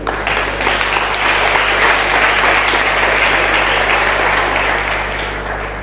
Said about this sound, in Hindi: प्लीज इस बच्चे के लिए ताली बजाइए